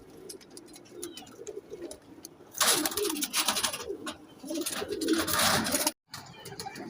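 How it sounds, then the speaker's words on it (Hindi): Sialkoti Jaunsre Neeldumbe pigeons coo steadily and close by, their soft rolling calls swelling loudly through the middle before a brief gap and a quieter return. "ये दोस्तों एक सियालकोटी जौनसरे नीलदुम्बे कबूतर है"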